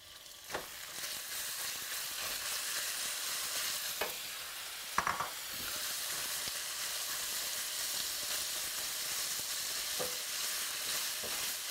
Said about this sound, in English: garlic pieces are sizzling, and I'm going to now add chicken to